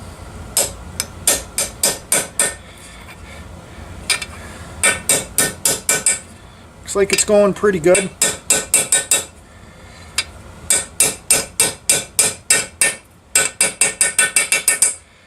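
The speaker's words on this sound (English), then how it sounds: "Now we're going to go and tap this new seal down in here." A hammer drives a socket to tap a new seal into the lower end of a 1964 Evinrude Big Twin outboard motor. Loud, sharp metallic blows come in rapid runs with short breaks, and a voice speaks briefly midway.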